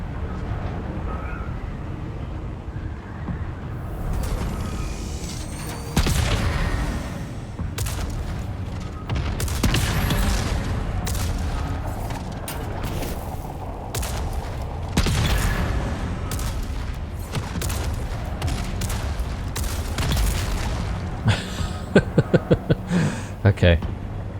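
Repeated gunfire while shooting enemies in the survival game Dune: Awakening, sharp shots and heavy booms scattered through the stretch, some in quick clusters, with someone talking over parts of it.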